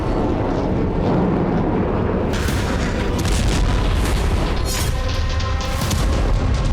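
Heavy explosions from Israeli strikes in news footage, with a dense rumbling roar throughout and sharper blasts bursting in from about the two-second mark, loud and continuous, with no talk.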